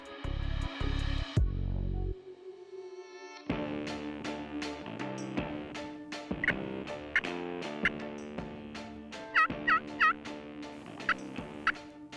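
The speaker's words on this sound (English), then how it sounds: "The gobbler turned in our direction." A wild turkey gobbler gobbles repeatedly during a hunt in Ontario, loud and fairly close in the opening seconds, then fainter calls and clucks continue over a busy outdoor background.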